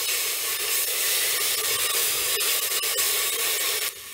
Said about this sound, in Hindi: मैं इसमें 1 table spoon ginger garlic paste add करूंगी और इसको थोड़ा फ्राई कर लूंगी मैं।